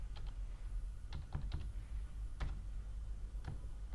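Typing on a computer keyboard, a handful of soft, scattered keystrokes close by over a quiet background, with no voices.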